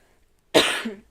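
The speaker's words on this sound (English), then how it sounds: "This cough, it just lingers after we had our colds." A woman with a lingering cough left over from a cold coughs once, harsh and raspy, close and fairly loud, after a moment of near silence, then trails off into a short throaty rasp.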